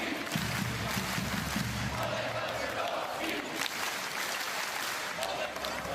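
A basketball arena crowd roars and applauds for an injured player during a FIBA Olympic pre-qualifying final, Bosnia and Herzegovina against Poland, a dense sustained wash of cheering with some voices under it.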